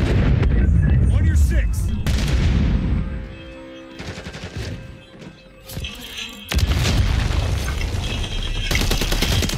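Grenade explosion in a first-person video game shooter, heavy booms and bursts of gunfire filling most of the stretch, loud and close, with a brief quieter gap in the middle.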